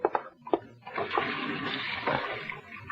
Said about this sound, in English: Wait till I wash my hands.